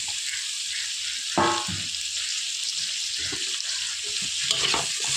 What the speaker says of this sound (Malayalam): നമ്മൾ ഇത് ശരിക്കും വഴറ്റിയെടുക്കണം